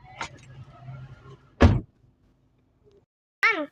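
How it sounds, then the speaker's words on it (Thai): A door is pushed shut with one sharp, loud thud in the middle, after a quieter rattle at the start and a brief squeak near the end; a short voice is heard at the close. "ไปปิดประตูด้วย"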